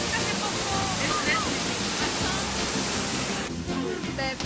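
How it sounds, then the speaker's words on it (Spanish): Steady rushing water like a stream or small waterfall fills the recording, with voices faintly mixed in and a brief dip in the roar near the end. "Grita que está el sonido del agua."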